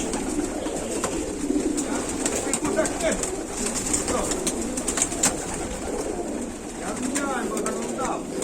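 Budapest tumbler pigeons cooing in a loft, soft repeated coos and rustling close by, with someone speaking Polish intermittently over them.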